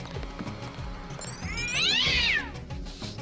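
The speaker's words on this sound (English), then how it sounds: "The cat's a little bit angry at me." An angry cat in Deus Ex lets out a loud, drawn-out yowl that rises and then falls, over a low, steady game background with no talk.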